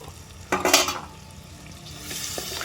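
Prawns fry in boiling oil for a Tamil village-style gravy: a soft, steady sizzle with a quick clatter of stirring near the start, faint and close, with no talking.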